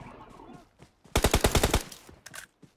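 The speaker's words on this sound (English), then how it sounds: "Gun sound." A burst of rapid automatic gunfire in PUBG Mobile, about ten sharp shots in quick succession, loud and close, with faint voices and game noise before and after.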